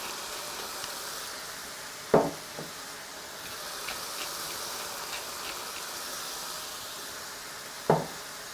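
Pork fried rice browning in a pan, a steady quiet sizzle with two sharp utensil knocks against the pan a few seconds apart.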